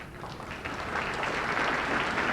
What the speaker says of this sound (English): If you could hold your applause until the end